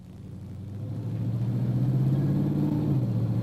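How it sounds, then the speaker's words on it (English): A car with a Ford AODE automatic transmission, overdrive off, pulls away on light throttle; the engine rumble swells steadily and its pitch rises, then dips slightly as the transmission upshifts, heard from inside the car. "Make some light throttle upshifts"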